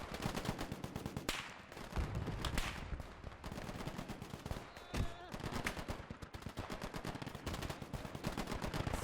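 Modded gunfire in the WWII strategy game Gates of Hell, with a Panther tank and a 100mm gun in the battle: dense bursts of machine-gun fire and repeated loud gunshots rattle continuously, with heavier booming reports mixed in.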